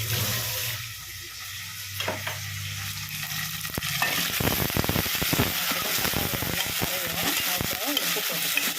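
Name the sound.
tomatoes and salt sautéing in a pan for fish curry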